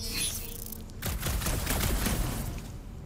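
Gunfire in the Guardians of the Galaxy video game: a dense, loud burst of rapid shots runs through most of the clip after a brief quieter lead-in, with no talking.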